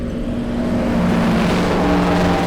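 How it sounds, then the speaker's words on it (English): Vintage Duesenberg race cars run at speed during an exhibition, giving a loud, steady engine roar with a strong humming drone that swells slightly as the cars push on. "did you hear the engines out there?"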